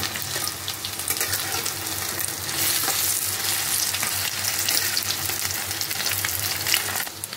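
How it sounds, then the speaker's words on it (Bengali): Pieces of rohu fish flipped and fried in a hot pan make a loud, continuous sizzle and crackle, with the stirring and turning heard close by throughout. "আমি উল্টে ভেজে নিচ্ছি ভালো করে"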